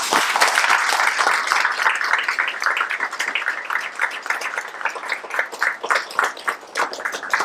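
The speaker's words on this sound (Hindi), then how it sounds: "एक बार और तालियां" A theatre audience applauds after a stage play, a sustained round of many hands clapping that thins into separate claps toward the end.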